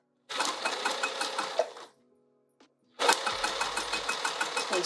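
A sewing machine stitches an open wide pouch for an Anna Maria box in two rapid, steady bursts with a short pause between them, the motor loud and close and its needle pulsing rhythmically.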